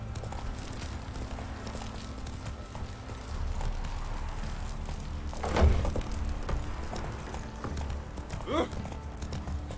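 Horse hooves clip-clop at a steady walking pace in The Witcher video game, a continuous rhythmic plodding under ambient game sound, with voices speaking over it at times.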